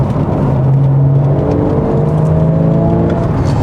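Inside a Porsche 981 Boxster S on a winding road, the mid-mounted six-cylinder engine and exhaust drone loudly and continuously, rising in pitch as it accelerates, with no talking.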